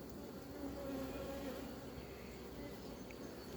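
Honeybees hum steadily at an open hive while a colony is being inspected, a continuous low drone that stays even throughout the moment.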